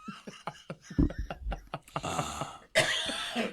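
A man coughs harshly several times in close succession, loud and near, with a raspy throat-clearing burst amid brief talk.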